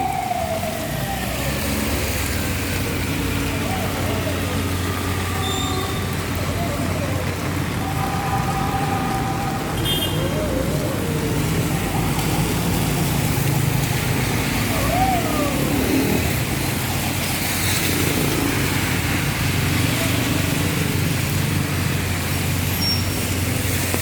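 Steady rain and traffic noise along flooded Taft Avenue, a dense wash of hiss and engine rumble with passing vehicles, faint horn tones and scattered voices throughout.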